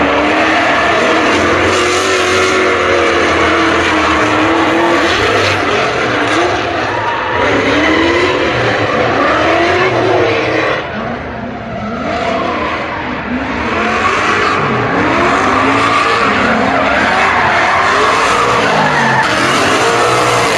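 A drift car runs hard in 4th gear, the engine roaring continuously up close while the tires skid and squeal throughout, with one brief dip in the noise midway.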